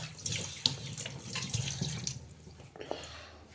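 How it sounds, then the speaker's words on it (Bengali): Hands are washed under a running kitchen tap during cooking, with close, splashing water and irregular splatters and drips throughout a few seconds. "আমি হাতটা ধুয়ে নিই পট করে।"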